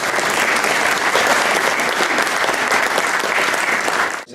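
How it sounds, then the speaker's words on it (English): Loud, sustained applause from an audience welcoming the mayor of Saluzzo to the podium at a Day of Memory ceremony, dense continuous clapping that holds steady before cutting off. "please welcome him with a round of applause"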